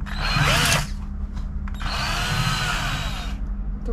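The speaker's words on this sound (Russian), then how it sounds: "сегодня пробуем пробурить кокос" A power drill bores into a coconut at home in two loud whining bursts, the first short and the second longer, with a quieter motor hum between them.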